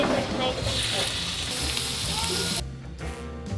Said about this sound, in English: What I want to hear is a sizzle when I put these in here.